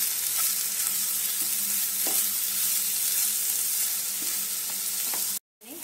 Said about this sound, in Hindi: मैंने लाल मिर्च पाउडर को भून लिया धीमी आंच पे 2 मिनट तक।